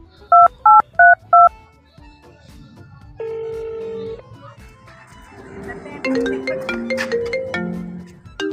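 Four quick, evenly spaced telephone keypad tones sound at the start, loud and close, followed by quieter sustained tones and a busier musical passage.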